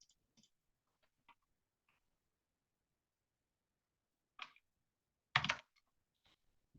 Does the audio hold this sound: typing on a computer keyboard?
yes